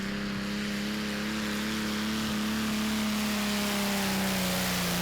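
A loud pulling tractor engine roars steadily at full power during a tractor pulling competition, a deep, sustained drone that holds without pause for several seconds.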